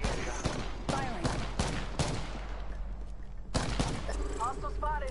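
Rapid bursts of video game gunfire crack out in clusters, close and sharp, with a pause before another volley, while voices talk over the shooting.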